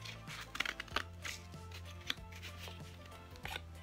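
Scissors cut a V shape into a cardboard egg carton, giving quiet, close snipping and crunching sounds in a loose, irregular rhythm over a faint background hum.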